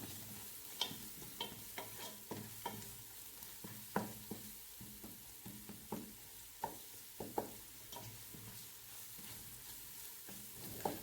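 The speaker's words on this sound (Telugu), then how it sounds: "వీటిని కాస్త బాగా కలుపుకున్న తర్వాత ఇవన్నీ బాగా వేగినాక మనం నెక్స్ట్ ప్రాసెస్లోకి వెళ్దాము" Turmeric, ginger and garlic paste fries in a pan for chicken curry, a soft continuous sizzle broken by regular scraping and tapping of a spoon stirring the paste, close and fairly quiet.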